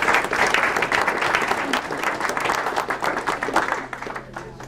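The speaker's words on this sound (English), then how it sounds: "let's give them a round of applause for their hard service to the city and the community" Audience applause for elected officials at a city council candidates forum in Burlington, a roomful of steady close clapping that thins out toward the end.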